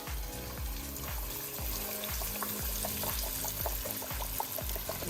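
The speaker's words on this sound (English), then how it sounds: "So I'm gonna go ahead and drop it in the oil." Catfish frying in hot oil in a pan, a steady crackling, bubbling sizzle with repeated low popping pulses, close and moderately loud throughout.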